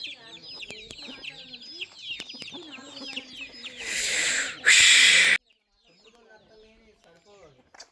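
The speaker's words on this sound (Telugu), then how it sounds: "ఇగో పందెం కోడి" Fighting rooster clucking and calling among other birds and farm noise, with a burst of loud rushing noise midway before quieter bird sounds resume.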